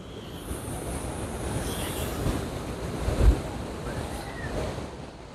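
Steady rush of Atlantic surf on the shore near Porto, Portugal, with gusting wind buffeting the microphone, a continuous outdoor roar with a brief louder swell.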